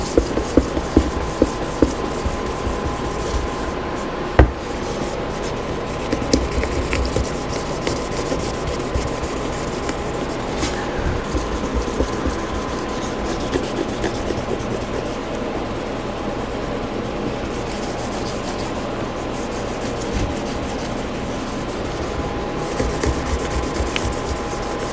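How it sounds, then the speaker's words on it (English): Steady rubbing scrape of well-used fine sandpaper, around 1700 grit, on a part of a 1979 Honda CB750K, continuous and close with no talking. "Probably more like 1700 because this is a well-used piece of sandpaper."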